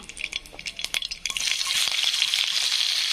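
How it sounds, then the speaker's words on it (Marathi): Onion frying in hot oil with mustard seeds for a potato bhaji, opening with a few spoon scrapes and clinks, then settling into a steady, close, bright sizzle. "कांदा असा छान त्याची फ्राय होऊ द्यायचा।"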